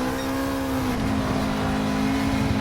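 A Honda Civic Type R FL5 drives hard on a race course, its engine note holding a loud, steady drone that climbs slightly in pitch, with no voices.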